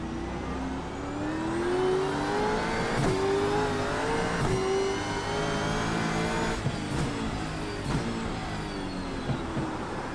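A Gen 3 Supercar in the iRacing simulator drives on a wet track. The engine drones steadily and loudly, with revs climbing and dropping at gear changes and faint tyre noise underneath, and no voices.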